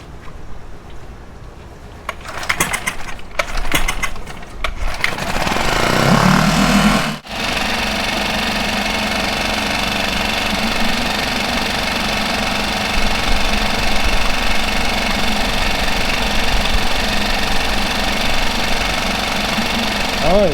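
A Mercury Tohatsu 4/5/6 HP outboard motor, just fitted with a new fuel pump, is cranked with a few sharp pulls, then starts and runs steadily with a loud, rapid buzzing idle.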